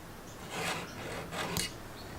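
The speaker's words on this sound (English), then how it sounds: "I'm going to slide the bevel down till I get it to a comfortable spot." Wooden sliding bevel gauge sliding along a wooden rafter template for a boat, a soft rasping rub in two or three close strokes over steady background hiss.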